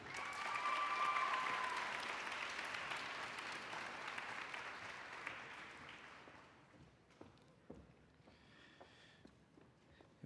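Applause at a middle school 8th grade promotion ceremony, a dense crowd clapping that swells with some cheering, then thins out into scattered individual claps.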